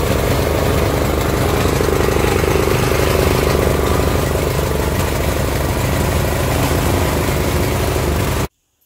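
A Honda GX340 generator engine runs steadily and loud at close range, a continuous low idling drone that stops abruptly near the end, with no talk.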